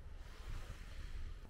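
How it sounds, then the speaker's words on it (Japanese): Calm sea at a grey, seaweed-strewn beach on the Oki Islands, soft low wash of gentle waves with some wind noise, faint and steady. "波は穏やかで透明。"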